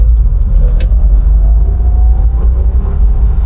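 Engine of a Rubystone Red 1992 Porsche 964 Carrera RS accelerating away on a road, a loud, steady, deep rumble with a faint rising engine tone throughout, recorded close and from inside the car.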